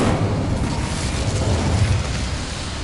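The Incendio fire spell is cast in the video game Hogwarts Legacy, releasing a loud, continuous roaring burst of flame that holds steady for a few seconds.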